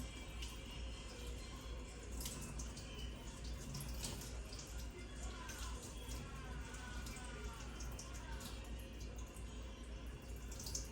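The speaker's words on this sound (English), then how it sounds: "Rinsing mechanically washes away the microorganisms that is left in your hands." Tap water runs steadily while hands are rinsed at a sink during a nursing hand-washing routine, a continuous close hiss and splash with no clear pauses.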